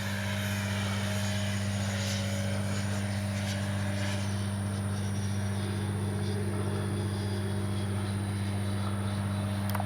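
Freewing 70mm Me 262 RC jet flying, a steady, loud electric ducted-fan whine with a strong constant hum, held unbroken for about ten seconds.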